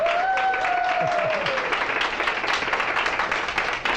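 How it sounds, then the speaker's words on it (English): Applause from a room full of guests at the opening of the Willow Bend Wellness Center, a continuous clatter of many hands, with a brief sustained tone and a few voices early on. "I really want to give a round of applause to my mom"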